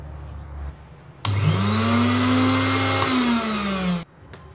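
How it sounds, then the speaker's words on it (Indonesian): A kitchen blender grinds a curry spice paste with coconut milk for a snapper dish, switching on abruptly into a loud, steady whirring whine with a slowly shifting pitch for about three seconds before cutting off. "Masukin ke blender."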